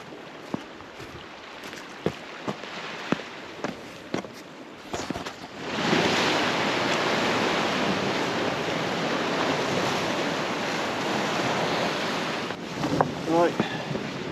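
Surf washes onto the beach at Mupe Bay as a broad, steady rushing roar with heavy wind buffeting the microphone, preceded by a few scattered footsteps and knocks.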